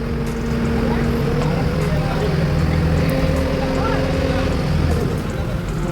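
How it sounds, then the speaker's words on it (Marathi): A ferry's engine runs steadily on a boat crossing in Konkan near Malvan, with a car carried aboard; a continuous low drone with tonal hum plays under wind noise and people talking nearby. "आता बोटी सुरू झालेली आहे."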